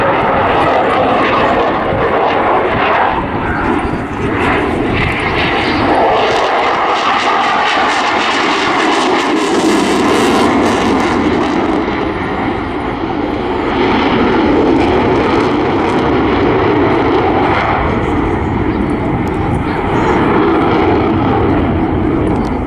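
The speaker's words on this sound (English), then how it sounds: "The sound and thrust of those amazing two Eurojet EJ200 engines there" A Eurofighter Typhoon FGR4 jet with two Eurojet EJ200 engines roars loudly overhead at an airshow, a sustained, powerful engine rumble with a rising and falling whoosh as it passes and keeps thundering.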